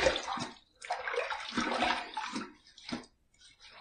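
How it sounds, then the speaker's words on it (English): Water splashes onto a face before a shave with a Gillette Labs cartridge razor, in several close, uneven bursts of splashing with short quiet gaps between them. "I'm going to put a little water on my face just to kind of kickstart things."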